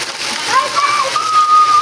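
Rain falls and splashes in a housing society during a Janmashtami matki-phod celebration. It makes a steady, broadband wash, and a voice and a thin tone sound over the rain.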